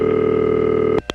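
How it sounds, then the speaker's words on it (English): Telephone exchange relays on a phone line: a steady tone hums for about a second, then cuts off and two sharp clicks snap in quick succession. "That's a relay. You're hearing actual relays,"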